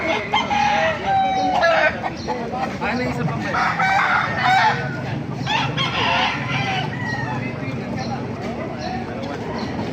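Roosters crow repeatedly near and farther off amid clucking chickens at a Baliuag market, while people talk over the crowd of birds.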